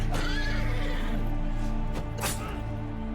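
A horse neighs in the medieval battle game Mount and Blade 2 Bannerlord, a loud close whinny rising over a dense backdrop of combat and ambient noise, with no talking.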